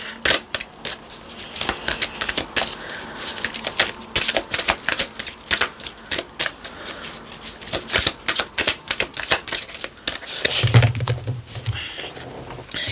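A deck of tarot cards is shuffled close up, giving quick, irregular bursts of riffling and slapping that continue throughout, with a brief low thump near the end.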